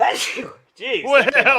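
A single loud, close sneeze bursts out at the start, followed by a brief pause and then someone talking.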